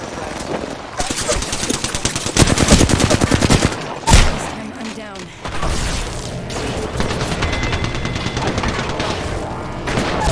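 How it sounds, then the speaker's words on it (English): Gunfire in the battle royale shooter Apex Legends: loud sustained automatic bursts with sharp individual shots and a heavy boom, continuing in waves across the clip. "I am taking fire."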